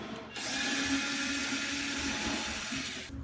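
A power drill backs screws out of the bottom panel of a Brother GTX Pro printer, giving one sustained, close whine that runs nearly three seconds at steady loudness.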